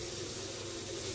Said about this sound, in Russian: горячая холодная вода течет хорошо